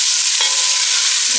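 Chili stir-frying in a pan for chicken and pork adobo, a soft steady sizzle with light scraping of stirring, close and continuous without talk.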